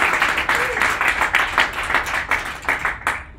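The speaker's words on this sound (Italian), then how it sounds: "So a big applause for our special" Audience at a Java user group tech meetup giving speakers a round of applause: close, dense clapping in pulsing waves that carries on for several seconds before tapering off.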